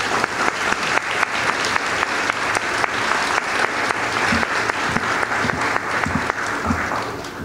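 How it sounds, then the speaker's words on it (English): An audience at an arts complex gala applauds as a speaker is welcomed to the stage, producing a steady, full round of clapping heard alone and sustained throughout. "Let's give her a round of applause."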